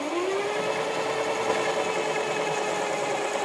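An Elgin Genius sewing machine winds a bobbin with its motor running, a steady close electric whir whose pitch rises briefly at the start and then holds even and continuous.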